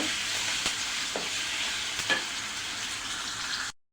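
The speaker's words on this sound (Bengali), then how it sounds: "আদা বাটা দিয়ে একটু কাঁচা গন্ধটা চলে যাওয়া পর্যন্ত একটু ভেজে নেব" Ginger and garlic paste frying in a pan gives a steady close sizzle with a few scattered stirring scrapes, running alone for almost four seconds before cutting out.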